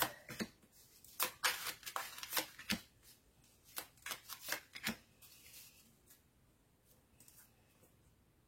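Tarot cards shuffled by hand for a reading, a run of crisp riffling bursts and soft slaps in uneven rhythm, close and fairly quiet, with no voice over it.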